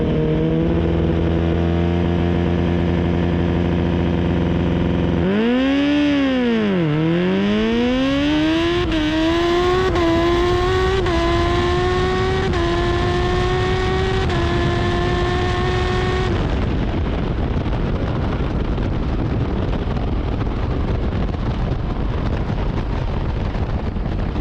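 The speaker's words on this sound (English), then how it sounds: "here's the next and last race of the day. I was actually racing that green bike" A Yamaha FZ1 motorcycle racing another bike, its engine loud and close as it revs up through the gears in rising whines, then settles into a steady roar with wind noise.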